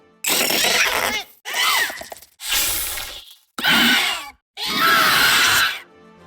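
A Minecraft creeper variant lets out five harsh, distorted screams from the video game, each loud burst lasting about a second and separated by short silences.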